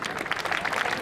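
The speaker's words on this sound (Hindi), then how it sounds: "जोरदार तालियां" A crowd of spectators claps at a wrestling bout between two wrestlers, with dense, steady applause that stays fairly even throughout and a faint murmur of voices mixed in.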